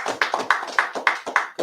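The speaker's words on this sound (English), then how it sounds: "So clap it for the Most High" Hand claps from a congregation at a Sabbath service, six distinct sharp claps in a slow, steady rhythm, close and fairly loud, with no talking over them.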